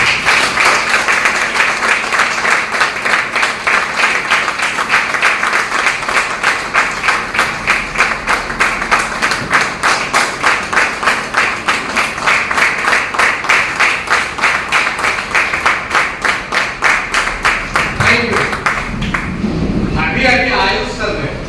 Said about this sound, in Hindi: शानदार तरीके से तालियां बजाकर स्वागत करेंगे